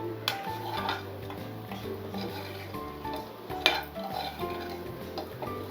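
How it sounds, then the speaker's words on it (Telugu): A spoon stirring tamarind pickle mixture with a little salt in a pan, giving steady scraping and clinking of metal on metal with a soft ticking rhythm, close and moderately loud throughout. "కలుపుకోవటమే, తిప్పుకోవటమే"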